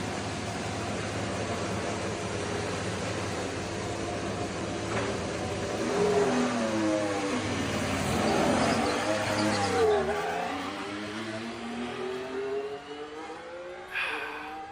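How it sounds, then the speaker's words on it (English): A Formula 1 car runs on track during preseason testing with a whining engine note. It grows louder as it approaches, sweeps past with a falling pitch, and fades into the distance. "I haven't heard a car on track yet. This is going to be our first audio of the day."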